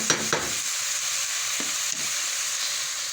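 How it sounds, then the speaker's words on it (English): Meat and onions for Hungarian goulash fry in a pot with a steady, close hiss of sizzling, broken by a few soft stirring scrapes near the start and middle, with no talking. "Now we cook this now until it's all brown and cooked down a little bit."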